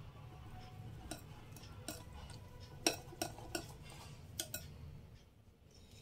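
Gram flour batter for bundi is whisked in a bowl, giving light, irregular clinks and taps of a utensil against the sides over a soft, constant background.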